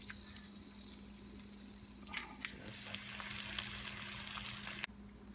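An egg sizzles and crackles as it fries in butter in a pan, a steady close frying hiss with small clicks and a faint low hum underneath, ending abruptly.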